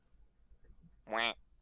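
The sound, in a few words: voice imitating a duck quack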